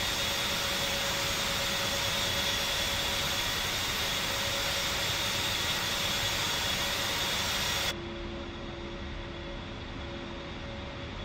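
Steady, loud jet engine roar of an aircraft in a flight simulator game, idling before taxi, a broad continuous rumble and whine that drops to a quieter, thinner hum partway through.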